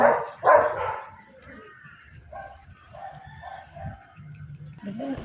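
A rooster crows loudly at close range in a village, followed by quieter clucks and a dog barking in the background.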